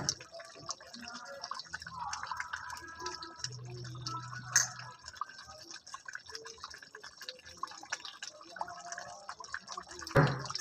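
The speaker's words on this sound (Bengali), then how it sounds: "এবার একটু মিঠা আতর দিয়ে দেব।" Sweet attar essence dripped and poured into chicken chaap as it cooks, soft liquid trickles and small drips against a faint kitchen background, with a sharper splash near the end.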